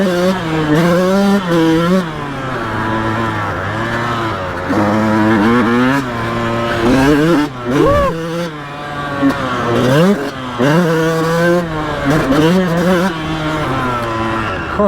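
Yamaha YZ125 two-stroke dirt bike, a 2001 machine, ridden over braking and acceleration bumps: a loud, close engine note that rises and falls constantly with the throttle and never pauses.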